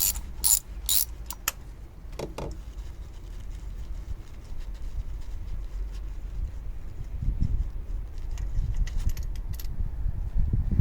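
A ratchet clicks in short bursts as a spark plug is unscrewed from the engine of a Vauxhall/Opel Corsa, close and fairly loud, followed by quieter mechanical rattling and handling noise.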